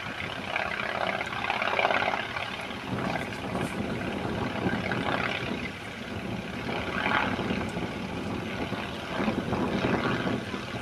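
A propeller aerobatic aircraft flying at the Shuttleworth Pageant air show: a steady, fairly distant engine drone that rises and fades a little over an outdoor background, with no talking.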